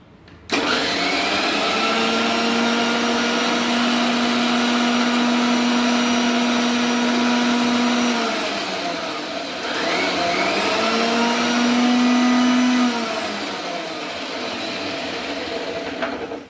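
An electric grinder whirs loudly while grinding a spice paste of masala, a steady motor drone with a brief pause and slowdown near the middle before it runs on again.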